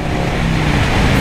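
A 1984 Harley Davidson FLT Tour Glide runs in fourth gear at 4000 RPM on a highway. The engine drones loud and steady, mixed with rushing wind noise.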